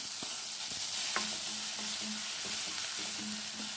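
Raw rice frying with crushed onion and chili in a pan, a steady close sizzle with soft scraping stirs running throughout.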